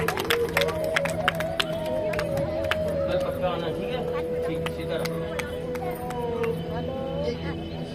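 An audience at a Hindu katha recitation claps for a child, a steady patter of applause from a crowd under someone speaking over amplified sound.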